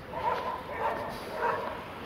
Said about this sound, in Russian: Зачем лаять? Не надо.